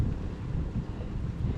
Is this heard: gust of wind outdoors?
yes